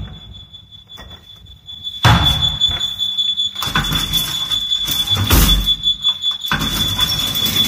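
A steady high electronic alarm tone rings continuously near a hotel elevator whose door has not closed properly, with clattering door and mechanical noises and shuffling around it.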